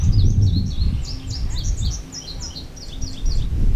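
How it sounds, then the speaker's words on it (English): Outdoor birdsong: a bird repeats quick, high chirping phrases at steady intervals over a low rumble of wind and background noise. "I don't know what kind of bird that is."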